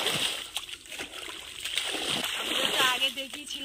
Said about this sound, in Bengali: এখন জল দেবো। এইভাবেই জল দিতে হয় তলায়।